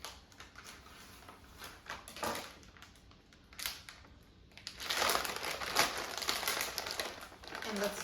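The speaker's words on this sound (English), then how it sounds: "So I'm going to open the packaging." Crinkly plastic packaging around frozen paratha is torn open and crumpled close by, starting as scattered rustles and building into a steadier crackling in the second half.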